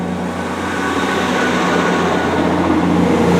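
A Great Western Railway diesel train, unit 158953, rumbles steadily at Severn Tunnel Junction, with a loud, continuous engine drone that builds gradually as it pulls away from the platform, with no voices.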